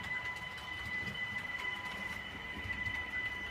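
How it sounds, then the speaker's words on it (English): A 12-car model TGV train runs on a model railway track during a build-up lap, giving a faint, continuous whirring hum with a steady high motor whine, no voices present. "it'll go into schedule 2, which is a build-up lap, so it'll build the speed up of the locomotive"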